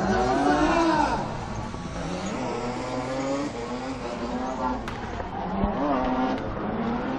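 Rally race car starting a stage on a 2015 Hungarian rally, its engine revving continuously with rising and falling pitch and a few tire and gravel noises, under a commentator's voice.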